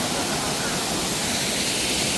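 A hidden waterfall pours in a dense, steady roar of rushing water, loud and close throughout with no break.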